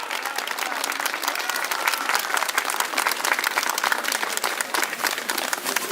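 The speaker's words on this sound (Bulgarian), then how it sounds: "Аплодисменти за нашите прекрасни деца!" An audience gives a continuous round of applause for children performing Christmas carols at an ethnographic complex, with dense, lively clapping that stays fairly loud throughout.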